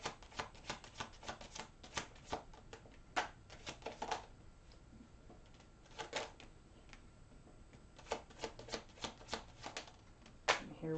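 Tarot cards are shuffled by hand in crisp, rapid riffles and soft slaps, coming in uneven bursts with short pauses between them, close and fairly quiet.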